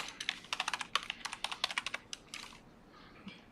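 Fast, light clicking of keys on a computer keyboard in rapid bursts for about two seconds, then a few scattered taps trailing off into quiet, close and soft.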